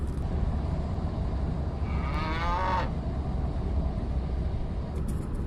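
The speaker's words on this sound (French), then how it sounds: "Les vaches sont nos voisines." A single cow moos once for about a second in the Breton countryside, moderately distant, over a steady low rumble of background noise.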